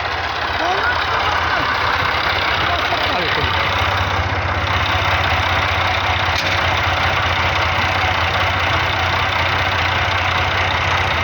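A Tractor 135 engine runs steadily while the tractor sits stuck in mud, a loud continuous low rumble with someone talking over it throughout.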